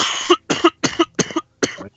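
A man with a cold coughs in a run of five sharp, close bursts, evenly spaced over two seconds with silence between them.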